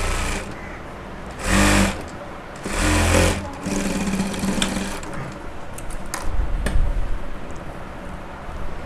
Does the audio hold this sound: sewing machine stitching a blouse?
yes